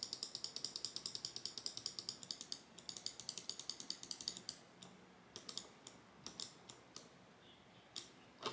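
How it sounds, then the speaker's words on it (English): Ducky Feather gaming mouse scroll wheel ticking through quick runs of soft, evenly spaced clicks, then slower scattered notches, quiet and close with no talk. "The scroll wheel is also very nice, steps are clear and not too tactile."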